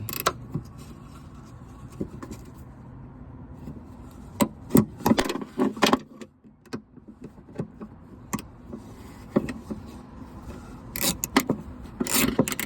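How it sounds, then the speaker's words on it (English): A 5/16 socket wrench working loose the nut on the wiper arm of an 8th-generation Ford F150 wiper motor, sharp irregular ratcheting clicks and scrapes that come in bursts over a quiet background, with no talking. "what you're seeing here is me undoing the bolt holding that arm to the motor"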